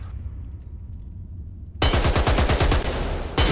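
Automatic gunfire in the shooter game Dirty Bomb, aimed at a training dummy, bursts in after a quiet stretch as a loud, rapid string of shots, pauses briefly, then resumes at the very end.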